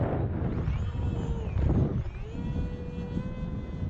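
An AeroScout RC model airplane flies on its maiden flight in gusty wind, its small motor giving a steady whine with tones that rise and fall as it passes. Wind buffets the microphone with rumble throughout.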